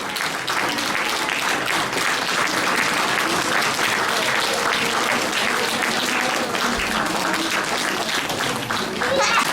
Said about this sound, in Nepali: हामी ताली बजाउँदैछौँ।